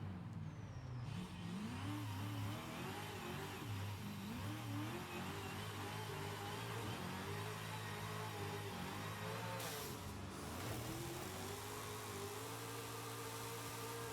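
Car engine with a custom exhaust sound in the Forza racing video game, loud continuous revving that rises and falls through gear changes as the car is driven around a course, with no talking.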